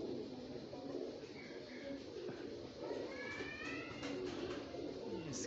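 A male Kamagar pigeon coos softly in short rolling phrases amid low background noise, with someone speaking nearby.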